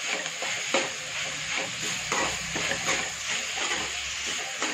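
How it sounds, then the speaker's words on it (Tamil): Tomatoes sautéing on full flame in a pan for vegetable-stuffed chapathi filling, with a steady close sizzle and repeated scraping stirs of a spatula throughout. "தக்காளி பச்சை வாசனை போட்டும் நல்லா வதக்கணும்"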